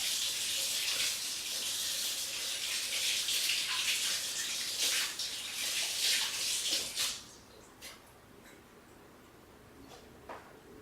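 Tap water runs steadily over a dental impression being rinsed under the faucet for about seven seconds, a loud broadband hiss, then cuts off, leaving faint handling clicks and quiet room noise.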